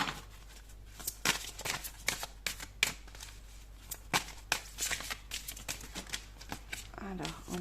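Tarot cards are shuffled and handled close up, with a series of crisp flicks and riffles in irregular bursts over a low background hum.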